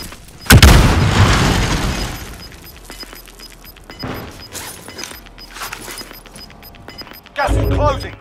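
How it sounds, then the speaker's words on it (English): A stun grenade goes off in a video game with a sudden loud bang, followed by a high, thin ringing tone that lingers for several seconds while players talk, and a second heavy burst comes near the end. "Stun grenade."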